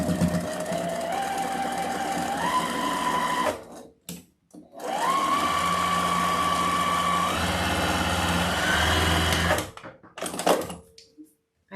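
A sewing machine runs in steady bursts with a mechanical whir, pausing briefly between runs of stitching, close and fairly loud.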